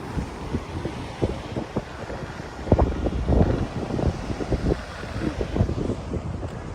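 Steady wind at the Şile lighthouse on the coast buffets the microphone in gusty bursts, a rough low rumble with irregular louder thumps throughout; no voices.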